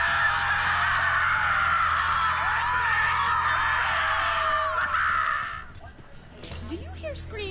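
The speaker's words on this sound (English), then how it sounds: "Do you hear screaming" Chaotic crowd screaming in the video game Borderlands 3, a dense wall of shrill, warbling cries that fades out after about five seconds, followed by quieter game sounds.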